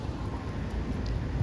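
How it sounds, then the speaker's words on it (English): Steady rain hissing down outdoors onto a pool during a windy thunderstorm, a dense low rumble of drops with gusty noise underneath, continuous and fairly close. "Yeah, it's raining."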